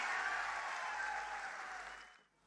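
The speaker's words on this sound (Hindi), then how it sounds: "तो एक बार जबरदस्त तालियां हो जाए मिस्टर जायद खान के लिए" An event audience gives a round of applause for actor Zayed Khan, steady dense clapping that fades out sharply near the end.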